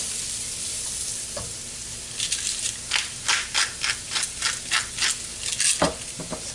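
Shaved steak and onion frying in butter in a pan, a constant sizzle underneath a run of regular scraping strokes, about one per half second, close and fairly loud.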